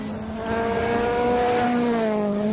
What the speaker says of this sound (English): He's trying to hear when the car's getting close